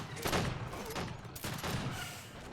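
Artillery firing in the real-time strategy game Age of Empires III, a dense rumbling volley of booming cannon shots overlapping in waves, loud and continuous with battle noise.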